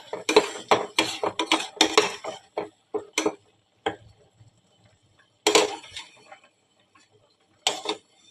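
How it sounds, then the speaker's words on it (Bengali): Mashed green banana peel stirred in an aluminium pot, with a run of close metallic scrapes and clinks in quick bursts, then scattered single knocks after long pauses. A voice speaks quietly underneath. "মাঝে মাঝে তোমরা নেড়ে নেবে এইভাবে"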